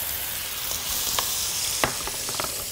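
Minced onion frying in ghee in a cooking pot gives a bright, continuous sizzle close by, with a few sharp pops and crackles breaking through the hiss.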